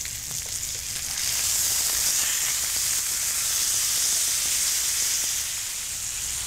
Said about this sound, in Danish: Nu har culotten brunet i 5 minutter på fedtsiden, så nu skal den vendes om og brunes tilsvarende på den anden side